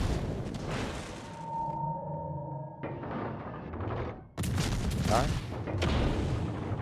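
Ship guns fire in a naval battle video game, with heavy booming blasts and rumbling salvos that cut off and resume amid game sounds, while a voice speaks briefly.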